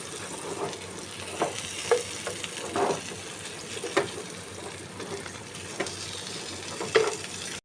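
Vegetables frying in oil for shukto, including bitter gourd and brinjal, give a steady close sizzle, with scattered stirring scrapes and clinks against the pan.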